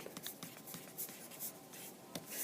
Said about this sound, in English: put your name on the back of your paper